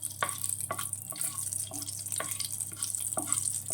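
Tempering spices frying lightly in oil in a pan for mint chutney, a steady soft sizzle with repeated light scraping stirs, fairly faint and close.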